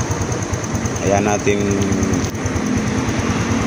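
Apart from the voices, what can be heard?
Honda XRM 125 motorcycle engine warming up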